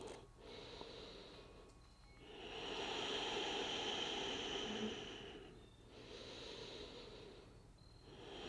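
Deep breathing during a yoga session, slow airy inhales and long exhales rising and falling in soft waves, quiet and close with no talking.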